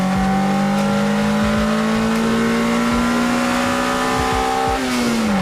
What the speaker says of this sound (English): I love this mod in particular because it really unlocks the sound of the engine